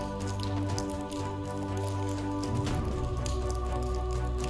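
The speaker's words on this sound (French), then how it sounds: "Ça tombe de tous les sens la pluie là." Rain pours down from every direction inside a large abandoned cinema, a dense, constant patter of drops with a steady low rumble underneath, loud and close, with no talk.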